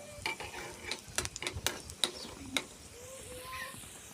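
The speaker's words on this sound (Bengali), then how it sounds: "কয়েকটা শুকনো লঙ্কা দিয়ে দেব এবার এইগুলোকে কিছুক্ষণ নেড়ে নেড়ে আমি লাল করে ভেজে নেবো" Dried red chillies are stirred and fried in a pan for a mashed okra dish, giving a steady soft sizzle broken by quick scraping clinks of a spoon against the pan, close by and fairly quiet.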